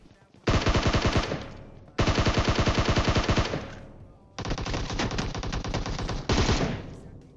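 Automatic gunfire in PUBG Mobile rattles out in long rapid sustained bursts, loud and close, with short pauses between strings of shots.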